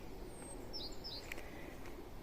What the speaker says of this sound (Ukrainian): пташки цвірінчать